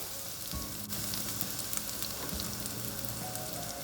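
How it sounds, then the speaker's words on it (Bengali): Steady low sizzling of garlic frying in a pan, a soft continuous crackle with a faint low hum underneath; no voices. "রসুন যখন একটু ভাজা হয়ে যাবে"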